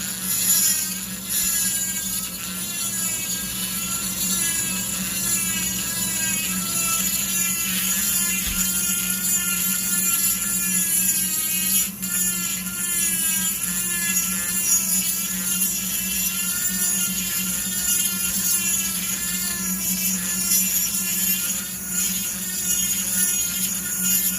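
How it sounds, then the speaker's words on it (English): Dremel tile cutter grinding to widen the port of a Husqvarna 51 chainsaw cylinder, a continuous high-pitched whine that wavers in pitch as the tool bears on the metal, close and steady throughout. "anybody that's wondering, that's a tile cutter"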